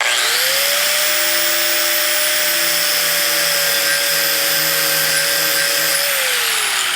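A 4.5-inch angle grinder spinning at 12,000 RPM, a steady high whine that spools up quickly, holds loud and close for several seconds, then begins winding down.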